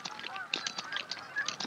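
Migratory birds, likely geese, honk repeatedly in a busy overlapping chorus, close and clear, with no talk over them.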